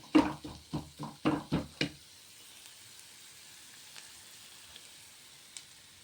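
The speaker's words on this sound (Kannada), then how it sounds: "ಎಣ್ಣೆ ಬಿಟ್ಟಿದ್ದೀನಿ ಸಾಸಿವೆ ಜೀರಿಗೆ ಈರುಳ್ಳಿ ಹಾಕ್ತಿದ್ದೀನಿ ಕರ್ಬೇವಿನ ಸೊಪ್ಪು ಬೆಳ್ಳುಳ್ಳಿ" Mustard seeds, cumin, onion, curry leaves and garlic hitting hot oil, a quick run of about eight sharp sizzling bursts close up, then a faint, quiet crackle with a few small pops.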